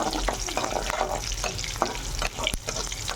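Onion pieces fry with chana dal and urad dal in hot oil for a brinjal-tomato curry, giving a loud, constant sizzle broken by repeated stirring scrapes, close up.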